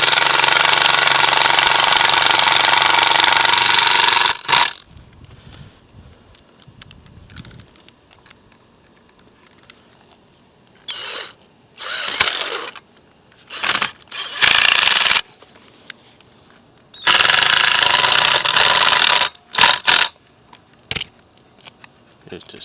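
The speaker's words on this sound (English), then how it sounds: "We'll put in a couple screws." A power drill drives screws into a bathroom lift, giving several loud bursts of whirring that start and stop, with quieter handling noises and clicks in the gaps between them.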